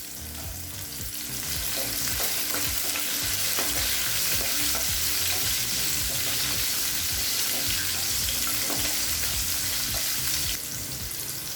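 Shallots and garlic frying in a pan for okra tamarind kuzhambu, a loud steady crackling sizzle that swells after a quieter start, with faint stirring clinks, and no one speaking.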